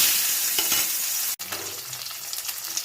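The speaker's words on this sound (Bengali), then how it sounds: "এবার নুন হলুদ মাখানো মাছগুলো এর মধ্যে দিয়ে ভালো করে ভেজে তুলে নেব।" Salted, turmeric-coated tangra fish fry in mustard oil in a hot wok, giving a loud, close, continuous sizzle that briefly cuts out before resuming with soft stirring taps.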